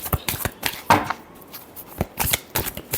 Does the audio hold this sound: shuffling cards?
yes